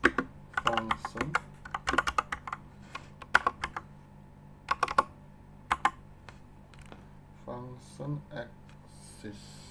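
Keys clatter on a computer keyboard as code is typed, quick close bursts of clicks in short irregular runs with brief pauses, while someone speaks quietly over parts of it.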